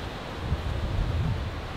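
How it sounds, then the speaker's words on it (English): Wind gusting during a thunderstorm, heard from under an outdoor shelter: a steady low rushing roar with soft swelling surges and a louder buffet at the very end. "It's windy."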